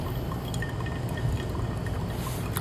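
Hot water trickles in a thin, faint stream over ground coffee in a pour-over brewer for the final pulse, a soft continuous splashing with light drips and no voices.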